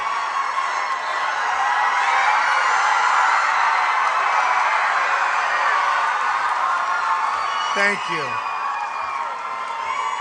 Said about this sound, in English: That is some enthusiastic crowd